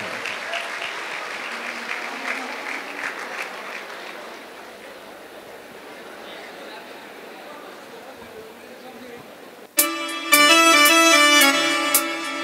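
An audience claps at a college musical concert, a sustained wash of applause that fades gradually before instruments strike up loudly near the end.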